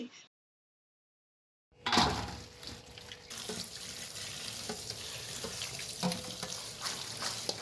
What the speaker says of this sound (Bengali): ধুয়ে নিচ্ছি এবার।